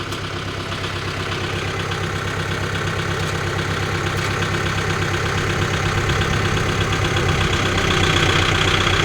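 A Kubota tractor engine idles steadily and fairly loudly nearby, a constant rumbling diesel drone that builds slightly toward the end, with no talking.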